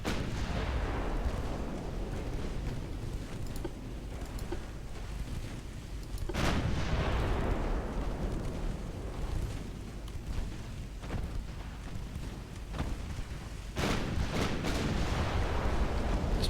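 Naval gunfire and shell impacts in the Ultimate Admiral Dreadnoughts game, with British warships of the 1900 era: heavy booming salvos at irregular intervals over a constant low battle rumble, and big blasts near 6 and 14 seconds.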